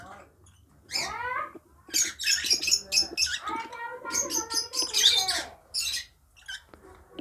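Pet lovebirds and cockatiels, including a breeding pair, chirping and squawking up close in loud, busy bursts of varied calls with short pauses between.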